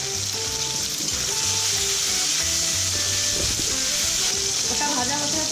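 Chopped tomatoes and green chillies with added salt fry in a pan, giving a loud, continuous close-up sizzle with occasional stirring scrapes. A faint background tone runs underneath.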